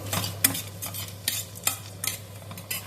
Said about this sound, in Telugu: ఇప్పుడు పొటాటో అండి, పొటాటో పీసెస్, బంగాళదుంప ముక్కలండి, ఇవి కూడా కొంచెం వేగనిద్దాం